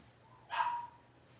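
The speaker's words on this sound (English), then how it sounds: "Did you hear Daisy barking in there" A Blenheim household dog gives a single short bark or yip, faint and somewhat distant, rising briefly out of a quiet room background.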